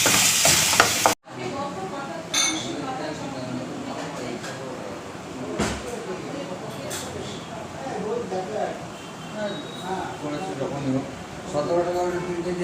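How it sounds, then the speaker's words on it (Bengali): Potatoes frying with turmeric and salt, a moderate sizzle with occasional utensil scrapes after a brief sharp burst at the start, heard under a person talking throughout. "নুন দিয়ে এটাও 2 মিনিট ভেজে নিই আলুটা"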